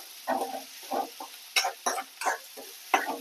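Garlic frying in hot oil for a mixed greens, potato and capsicum gojju, with short bursts of sizzling and stirring that come and go in a rough rhythm, close and fairly loud.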